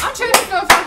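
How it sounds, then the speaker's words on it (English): A group of people clap in unison exactly twice during a party dare game, two sharp, loud claps roughly a third of a second apart, with faint voices murmuring between them. "if y'all hear my voice, clap twice"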